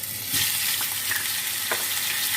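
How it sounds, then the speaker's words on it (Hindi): Spiced chicken tikka fries in hot oil with a loud, continuous crackling sizzle, broken by a few brief stirring knocks. "ऑयल गर्म हो चुका है, अभी हम चिकन को फ्राई कर लेते हैं।"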